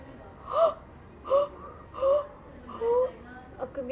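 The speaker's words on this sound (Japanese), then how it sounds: "あくびです、すいません。" A person yawns in a few drawn-out, breathy vocal swells, close to the microphone, each rising and falling in a soft rhythmic series with faint sounds between.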